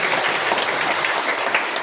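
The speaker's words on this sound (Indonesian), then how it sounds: "Yang udah tepuk tangan" A church congregation claps together, a dense, even patter of many hands filling the room steadily from start to finish.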